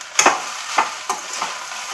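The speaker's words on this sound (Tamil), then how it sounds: "இதையும் சேர்த்து நல்லா இப்போ நம்ம கிளறணும்." A spoon stirring a rice mixture in a cooking pan for a home lunch, four separate soft scraping strokes over a faint steady sizzle, close and with no talk.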